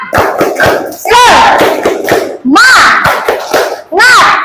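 A classroom of children does a rhythmic spirit clap chant, bursts of group shouting and clapping coming in three loud waves separated by short pauses.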